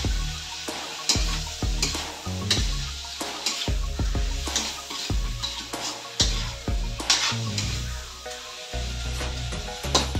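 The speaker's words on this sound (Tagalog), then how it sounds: "Tapos, haluin" Food frying in a pan is stirred with a spoon, repeated scraping knocks against the pan over a steady sizzle, close and regular throughout with no talk.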